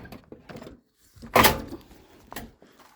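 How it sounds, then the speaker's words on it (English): A stiff door at a ranch hay storage area is shoved and pulled open, making a loud scraping, rattling burst in the middle amid softer knocks and shuffling before and after. "And this door is hard to open."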